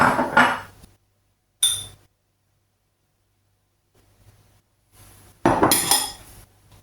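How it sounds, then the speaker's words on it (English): Sugar and salt mixed in a bowl for chapati dough produce short bursts of close spoon scraping and clinking against the bowl, separated by quiet pauses. "So you're going to put the sugar and the salt into the bowl and mix them up."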